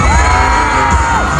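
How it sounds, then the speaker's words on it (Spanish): Stadium crowd at a concert in Mexico screaming and cheering loudly and continuously, a dense wall of high-pitched shrieks with no pauses. "ha sido de los conciertos donde más fuerte he escuchado los gritos de la gente"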